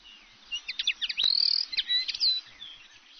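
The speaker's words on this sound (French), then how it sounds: "j'entends chanter les oiseaux" Small birds sing and chirp in quick bright phrases, several short calls and a longer trill overlapping, fairly close in a calm outdoor setting with no other noise.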